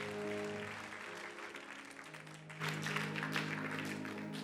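A church congregation applauds steadily as a dense wash of clapping, with sustained organ-like music tones running underneath; the clapping swells a little louder partway through.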